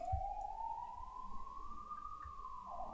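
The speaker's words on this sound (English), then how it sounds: "Man, these ambulances are killing me." An ambulance siren drifts in through an open window: a single long, rising tonal wail, fairly faint and distant, over low room rumble with no voices.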